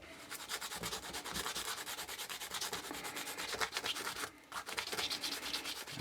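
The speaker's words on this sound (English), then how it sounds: "I'm going to clean off some of this rust that's built up on the shaft" Rust is scrubbed off the shaft of a TranzX dropper post with a fast, steady back-and-forth rubbing, a close scratchy sanding rhythm that continues with one brief pause.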